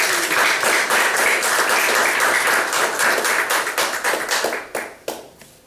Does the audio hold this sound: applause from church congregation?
yes